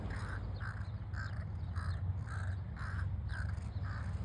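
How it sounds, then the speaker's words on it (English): Crows caw repeatedly in a steady rhythm of harsh calls while attacking on an Englewood beach, loud and close over constant low rumbling background noise. "Being attacked by the crows."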